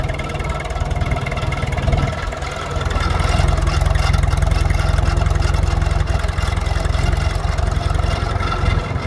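A Standard Fordson tractor converted to a Perkins 4.270 diesel engine drives along in top gear, a loud, steady low engine drone that swells to a heavier, fuller pull after the first couple of seconds and holds there.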